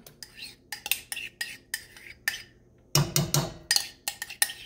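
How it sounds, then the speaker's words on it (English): A metal utensil stirs sour cream into beef stroganoff in a pan, with a rapid series of clinks and scrapes against the metal, close and fairly loud. "Sour cream's in there now. Going to give that a nice mix."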